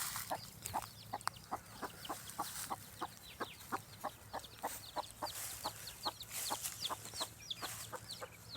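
Free-roaming village chickens cluck steadily in the shade of a neem tree, a repeated run of short calls over a constant low hum and faint bird chatter, with no talking.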